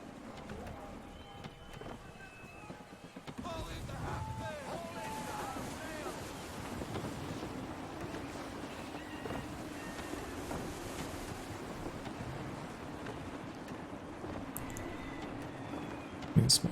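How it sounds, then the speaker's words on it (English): Gusty wind buffets a small sailing ship at sea in Assassin's Creed 3, a continuous breathy rush of wind and surf washing along steadily, with a louder gust swelling in near the start. "Gusty winds can be difficult to manage."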